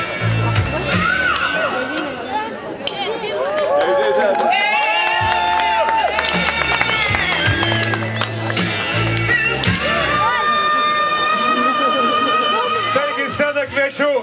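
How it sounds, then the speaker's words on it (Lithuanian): At a summer town festival in Krinčinas, a crowd cheers and claps for the first-place winner, a lively, sustained roar of voices and applause mixed with music and a speaker talking over it. "Aplodismentai jam."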